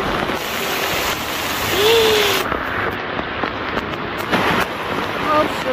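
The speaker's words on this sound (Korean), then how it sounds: "하우스 옆쪽으로 이렇게 비가 너무 많이 오고 있습니다." Heavy typhoon rain pours steadily beside a pepper greenhouse on a farm, a dense continuous hiss with a brief whistle-like tone partway through, heard at close range with no voices.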